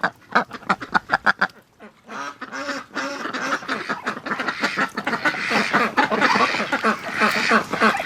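Breeding ducks quack in a rapid run of close, loud calls at first, then a dense, continuous chorus of quacking and chatter from several birds nearby.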